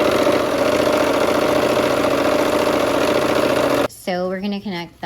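A sewing machine stitches a quarter-inch seam on a quilt block, a loud, steady motorized whir running for about four seconds before stopping abruptly, followed by someone talking.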